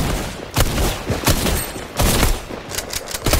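Gunfire in a PC shooter video game comes in loud, rapid bursts, with several volleys of automatic fire separated by short gaps, close and dominant with no talking.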